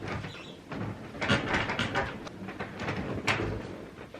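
A very squeaky bed creaks and groans close by as weight shifts on it, giving repeated irregular squeals and rubbing sounds over several seconds with no talking.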